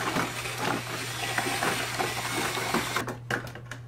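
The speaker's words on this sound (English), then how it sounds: "And I'll just mix this slurry up." A corkscrew mixer stirring foam slurry, producing a steady motorized whir with a low hum and gritty churning texture, ending in a few short bursts as the mixing stops and restarts.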